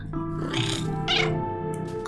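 A cat meows in the puzzle game A Little To The Left, several short tonal calls over a steady musical backdrop with a voice talking alongside.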